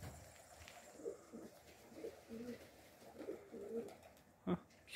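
A runaway pigeon that has returned gives soft, low cooing calls in a repeated series, fairly near but quiet, over faint outdoor background, ending with a sharper noise.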